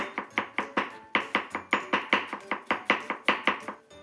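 A knife slices bamboo shoots thinly on a cutting board, giving rapid evenly spaced crisp chops, close and clear, with no talking.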